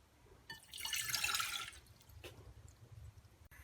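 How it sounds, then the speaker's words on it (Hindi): About two cups of water pour into a cooking pan for Kashmiri chai, a bright splashing gush that swells for roughly a second and then fades to a few light drips in a quiet kitchen. "तो पानी हमने डाल लिया,"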